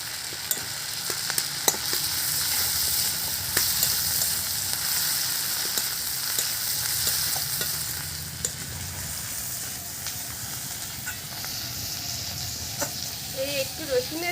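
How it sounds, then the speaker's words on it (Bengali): Garlic and dried red chillies fry in hot oil for a prawn and taro-leaf dish, giving a steady close sizzle with scraping stirs throughout and no talk. "রসুনটা দেখুন একেবারে কিন্তু লাল করে ভেজে নিয়েছি"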